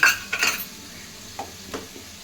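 A paste of poppy seed, chilli, ginger and tomato hits a hot pan, a short sizzle with scraping stirs near at hand, loudest at first and then a couple of softer scrapes.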